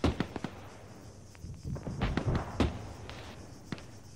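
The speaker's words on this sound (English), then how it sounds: "That's a SAM launch, north-northwest." Distant battlefield in the Arma military game, where a SAM missile launch comes through as a series of sharp cracks and pops spread over a few seconds amid faint background rumble.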